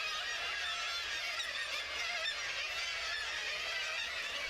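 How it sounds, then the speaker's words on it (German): A large kittiwake colony on a seabird cliff on a Scandinavian peninsula calls nonstop, a dense, distant wash of overlapping shrill cries with no talk. "Auf der Halbinsel gibt es einen Vogelfelsen, wo jedes Jahr Zehntausende von Dreizehn-Möwen brüten."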